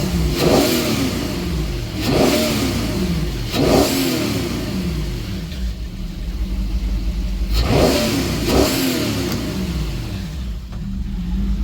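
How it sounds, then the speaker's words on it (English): A PCM inboard engine in a Super Air Nautique G25 wake boat revved in repeated blips, rising and falling over a steady loud idle, close by with no talk. "Figured I'd come rev her a little, get that oil pressure up."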